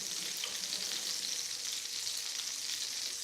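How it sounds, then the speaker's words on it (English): Homemade meatballs frying on top of a stove, a steady, dense sizzle of hot oil that holds constant and close throughout with no voices. "Once you start frying them"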